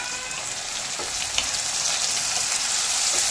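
Onion and tomato fry in a pan for mushroom curry, giving a dense, even sizzle with faint crackles that stays close and loud throughout, with no voices.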